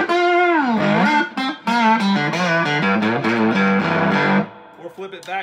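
A three-string cigar box guitar on its neck pickup rings out in distorted, sustained melodic notes and slides, a steady phrase for about four seconds before trailing into a few softer plucks.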